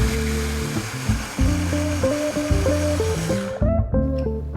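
A food processor whirs loudly blending fresh basil for homemade pesto, its motor pitch stepping up and down between pulses before cutting briefly near the end and restarting.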